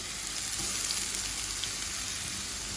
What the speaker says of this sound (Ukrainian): одразу ж робимо засмажку